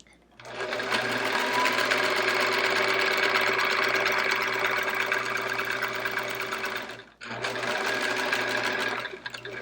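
A sewing machine quilts in the ditch on a chevron quilt, running steady and close for about seven seconds, pausing briefly, then whirring again.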